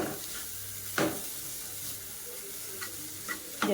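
Grated coconut is stirred in a pan to dry it, giving a soft, steady scraping sizzle with a few sharper clicks of the utensil against the pan, fairly quiet and with no voices.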